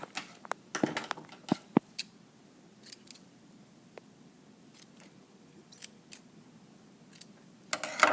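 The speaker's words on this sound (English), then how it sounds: "Pull it out, cut your threads." Scissors snip through sewing threads after a line of machine stitching on fabric, giving a few sharp, close clicks spread across a quiet room, with a cluster of snips at the start and another at the end.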